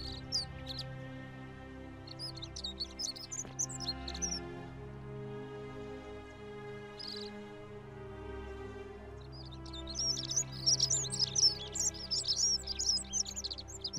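Chirping bird calls from the video game The Forgotten City, brief bursts early on and a denser, louder run of tweets near the end over steady game music and ambience.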